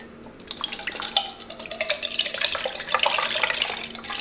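Photographic fixer poured into a measuring jug for black-and-white film developing at home, a steady close trickle of liquid with small splashy drips over about four seconds, no talking.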